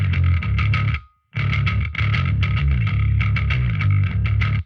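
Distorted bass guitar running through a Line 6 Helix with the EQ and processing after the impulse response loader switched off plays a loud, driving riff with a brief cutoff near the middle, sounding honky with heavy low mids.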